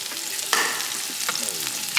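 Chopped peppers with their seeds, seasoned with salt and seasoned pepper, sautéing in a pan: a close, steady frying hiss broken by a few sharp spoon clicks against the metal.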